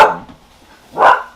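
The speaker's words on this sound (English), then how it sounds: "My dogs are going crazy." Excited dogs bark twice, close and loud, with a short quiet gap between the two barks.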